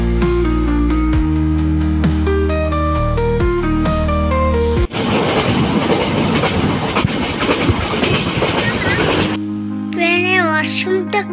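A new passenger train runs on the rails at Cox's Bazar. A loud, dense rumble with rolling wheel noise lasts about four seconds, preceded by music and followed by other tonal sounds.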